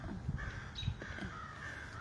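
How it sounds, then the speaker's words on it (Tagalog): Several crows caw in short, harsh calls outdoors, repeated at irregular intervals over steady background noise. "Mukhang madami na yung uwak."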